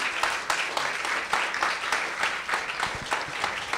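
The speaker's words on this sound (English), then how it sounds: "why don't we give a tremendous round of applause to all that has just happened from the beginning till now" An audience applauds at a poetry tribute event. Moderately quiet, it has individual claps standing out in an uneven patter over a soft wash of hands.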